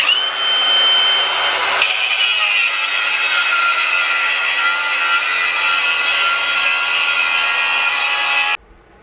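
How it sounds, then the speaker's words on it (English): An angle grinder works old metal brake rotors, a loud, steady, close whine that runs almost the whole time before cutting off near the end. "So I'm going to get some more practice grinding, and I'm going to get some more practice welding."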